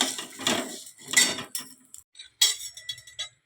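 Mung dal being roasted in a kadai and stirred, giving two bursts of dry rattling scrapes followed by lighter metallic clinks and taps, close and moderately loud, with no voices.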